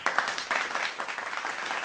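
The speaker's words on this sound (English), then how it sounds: "I started adding applause" Canned applause sound effect played by a podcast host during a live show, a short, bright burst of crowd clapping with a few whoops, fairly loud and steady, lasting under two seconds.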